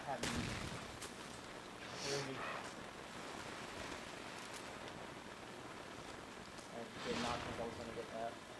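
Two grenade explosions in Call of Duty: Black Ops, separate booming bursts a few seconds apart over continuous battlefield noise and scattered gunfire.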